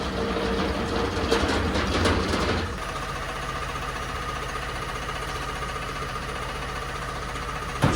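A tow vehicle carrying a motorbike pulls away with a loud engine drone that drops off after a few seconds into a quieter steady rumble. A brief knock comes at the very end.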